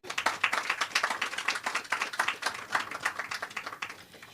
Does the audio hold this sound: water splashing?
no